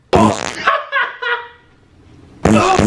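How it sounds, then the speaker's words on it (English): A loud fart, a couple of long raspy blasts close up, followed by a short gap and another sudden burst. "Did you just fart on my damn food, boy?"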